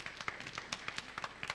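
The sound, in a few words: audience applause for workshop speakers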